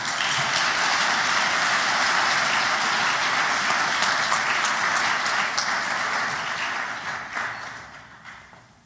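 Sustained audience applause at an open source conference in Portland, Oregon, dense steady clapping from a large crowd that fades out toward the end.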